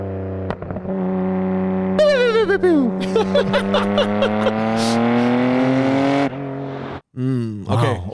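A Nissan Skyline GT-R R34 exhaust revving hard, the engine note climbing in long pulls with crackles and a sharp drop between revs, loud and close with no talk over it.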